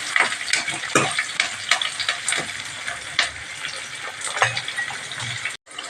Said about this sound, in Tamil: இப்போ வெங்காயம் நல்லா பொன்னிறமாக ஆகட்டும் நல்லா வதங்கணும்